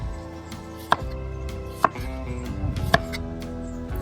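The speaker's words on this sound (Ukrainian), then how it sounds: "Отак розрізаємо і удаляємо плодоножку." A knife slicing through a tomato on a cutting board, three distinct sharp knocks as the blade hits the board, spaced about a second apart, close and clean with no talking.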